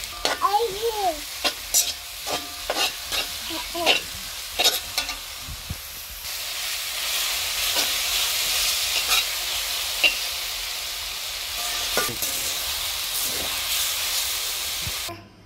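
Jute leaves added to onion and garlic fried brown in a pan, with several sharp spatula clatters at first, then a strong, steady hissing sizzle as the greens cook.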